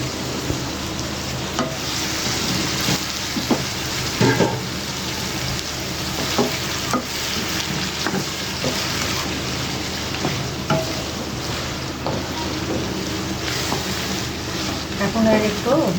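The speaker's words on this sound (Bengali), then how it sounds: "এখন মাংসটা দিয়ে ভেজে নিয়ে তারপর মশলা দেবো" Chicken pieces fry in a pan, sizzling loudly and close with the scrape and clatter of stirring repeating throughout.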